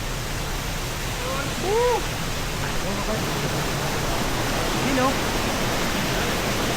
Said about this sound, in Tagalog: Welcome to Gabaldon Falls!